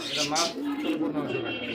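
Soft, breathy cooing from domestic pigeons, a red male and black female breeding pair, close by in a continuous murmur over a brief moment.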